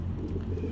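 Pigeons in a backyard aviary give low, soft cooing that merges with a steady low hum through a brief moment, fairly close and quiet.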